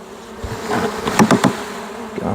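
Honeybees from a kitchen hive buzz close by while being scooped for a varroa mite check, a dense droning hum that swells and pulses for a couple of seconds.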